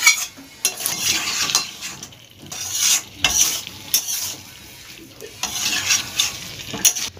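Boiled green jackfruit is sautéed in a pan, with bursts of scraping and clattering as a spatula stirs against the metal, alternating with softer sizzling in between, close and fairly loud.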